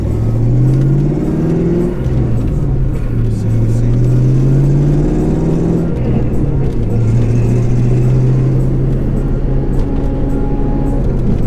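Ford Mustang Bullitt fitted with an MGW short shifter drives along, its engine droning loudly and climbing then dropping in pitch through gear changes, a continuous close cabin rumble.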